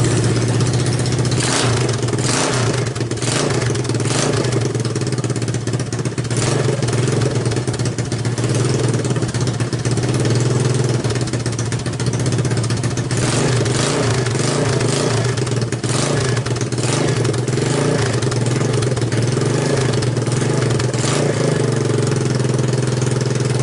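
ATV engine running just after a carburetor rebuild, following hard starting and a bad idle: a loud, close, continuous clattering idle with uneven surges in pitch throughout and no speech.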